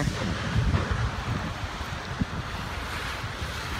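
Steady ocean surf along a coastal road near Santa Cruz, California, heard as a continuous broad wash with wind buffeting the microphone and low rumble throughout.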